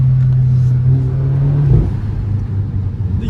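Car engine from a VW Golf GTI or Audi S3 accelerating, a loud steady drone that holds then drops off abruptly midway, followed by lower rumbling road noise.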